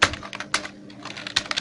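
Quick bursts of keystrokes on a computer keyboard while HTML code is typed into Notepad++, close and crisp, in short uneven clusters with brief pauses between them and no speech.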